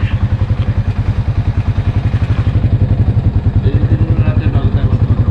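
A Yamaha SZ v2 motorcycle bored up to 180cc with a 63.5mm kit and 32mm Koso carburetor thumps loudly and close, its single-cylinder pulses beating fast and even, with voices talking nearby.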